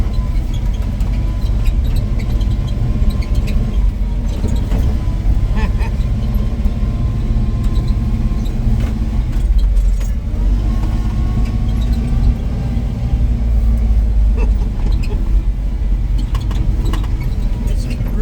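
A 1961 Willys Jeep drives through light snow with a steady, loud engine drone and road rumble that runs unbroken for the whole stretch, with no talking.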